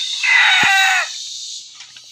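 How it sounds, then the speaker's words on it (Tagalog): A rooster crows loudly and close, one long harmonic call that trails off, with a brief thump partway through. "Kasi panay tilaok pa rin yung alpas dyan."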